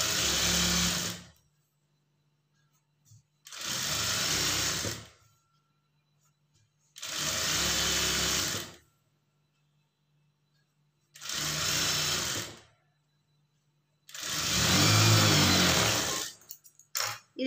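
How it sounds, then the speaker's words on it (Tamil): A sewing machine stitches blouse cloth in five separate bursts of a few seconds each, with pauses between them; the whirring runs are loud and close, with a faint hum during the gaps. "மடிச்சுட்டு இந்த ஓப்பன் சைடு வந்து தையல் போட்டுக்குங்க."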